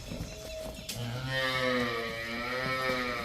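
A Jersey-cross cow on a dairy farm gives one long, drawn-out moo, loud and close, with a short rustle and clatter just before it and no talk.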